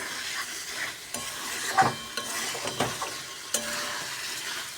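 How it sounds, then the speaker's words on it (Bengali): Meat being stirred and fried in a pan while cooked down for kosha, with a steady sizzle and scraping stir strokes at irregular intervals, close and moderately loud with no voices. "দেখো, মাংসটা ভালো করে কষতেই থাকছি"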